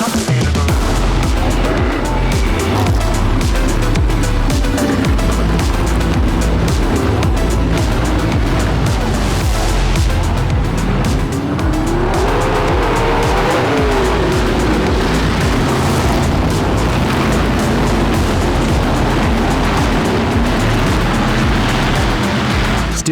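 Race cars roaring around a track, loud engines howling continuously with rising and falling pitch as cars pass, a dense full-throttle pack sound throughout.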